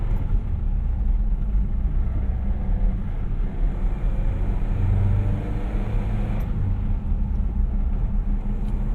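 A 1987 Toyota Xtracab 4x4 pickup truck drives along with a continuous low engine and road rumble heard from inside the cab, steady and fairly loud throughout, with no talking.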